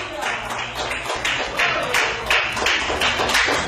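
A church congregation applauds during a Spanish-language sermon on the Letter to the Romans: steady, dense clapping that swells in waves from many hands and fills the whole room.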